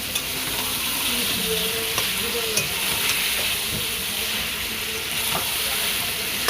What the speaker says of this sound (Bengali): আমি এখন আদা আর রসুন থেতোটা দিয়ে দেব, দিয়ে এখন আমি ভালো করে কষিয়ে নেব।